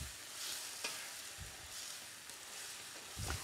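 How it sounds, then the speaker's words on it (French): Food is stirred in a pan over a quiet background sizzle, with soft scrapes and a few brief clinks, low in level and without speech. "Et on mélange."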